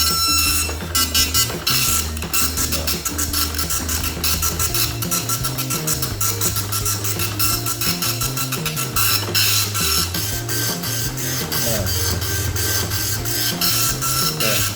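An Epson LX 310 dot matrix printer prints in a continuous loud, close buzzing rasp, the print head's rapid chatter rising and falling with brief pauses as it moves along the line.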